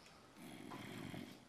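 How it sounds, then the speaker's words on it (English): Heavy breathing picked up close on a headset microphone, a faint, rough, airy rasp that swells after a quiet start and continues in soft, uneven pulses. "Bit of heavy breathing."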